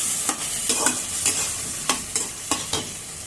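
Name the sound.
stirring spice mix with poppy seed paste in pan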